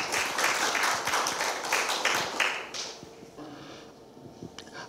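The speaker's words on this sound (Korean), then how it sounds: "박수로 좀 하십시오." Audience applause at a Korean lecture event on the independence movement in Incheon, greeting the head of the Incheon branch of the Liberation Association; moderate clapping through the first few seconds that thins and fades toward the end.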